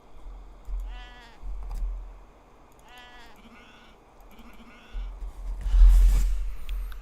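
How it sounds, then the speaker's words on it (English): Horned Karakul sheep in the Age of Empires 3 video game bleat in several short, separate calls over quiet game ambience, with a low rumble and a louder burst near the end. "Notice how these Karakul sheep have horns on them instead of the regular ones, which is really neat."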